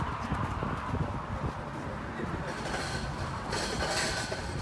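A farm tour vehicle at the Agrodome in Rotorua, New Zealand rattles over the metal bars of a cattle stop, a rapid clattering rumble under the steady drone of the moving vehicle, with talking over it.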